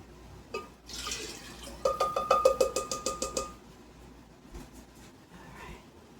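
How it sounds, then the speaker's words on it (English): Broth pours into a blender for enchilada sauce in a brief splash, followed by a quick run of rhythmic glugging bursts, close and fairly soft before fading into quiet room noise. "I'm just going to add another cup of broth"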